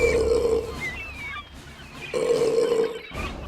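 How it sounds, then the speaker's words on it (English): An animated seagull gives a drawn-out, croaking burp, then after a short gap a second burp, both near and fairly loud, with a brief squawk-like tone between them. "Did you want to hear a burp?"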